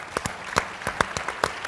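Scattered clapping from a union plenary audience, a handful of separate sharp claps at an irregular rhythm rather than a full ovation, heard in a room.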